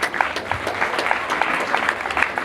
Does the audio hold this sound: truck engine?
no